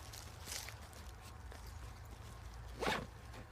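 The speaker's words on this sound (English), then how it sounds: "these are just normal size zippers" A normal-size zipper on a British MTP cadet bergen 60-litre backpack is pulled in a few quick, faint rasping strokes, the longest near the end, over quiet rustling.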